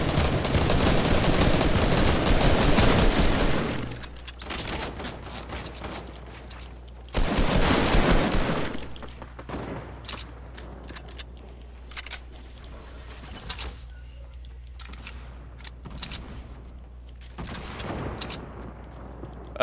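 Bursts of automatic gunfire in a squad battle-royale shooter game, loud volleys at the start and around seven seconds, then scattered quieter shots and rattling through the rest.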